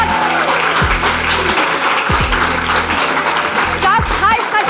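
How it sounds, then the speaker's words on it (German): An audience at a German freestyle rap battle applauds the winner with loud, dense clapping and cheering throughout, while a host's voice and low bass beats sound underneath. "Ein Applaus für Keyshot."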